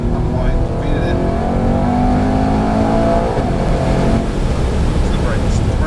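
A Mercedes-AMG E63 accelerates hard around a race track, its engine roaring loud and continuous with rising and falling revs, while a voice talks over it from inside the car.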